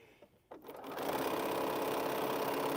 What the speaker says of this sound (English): I'm just randomly sewing these together